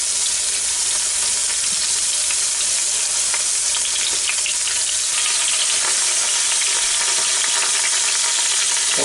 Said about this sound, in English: Letting it sear like that.